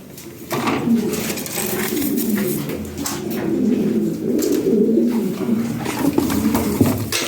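Several domestic pigeons, male and female, coo repeatedly and close by in a continuous murmuring rhythm, with faint clinks and a soft background hum.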